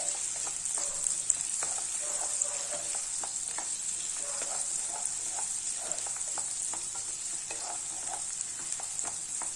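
Chopped onions with cumin seeds sauté in hot oil, a continuous gentle sizzle speckled with small crackles and pops, moderately close and alone without talk.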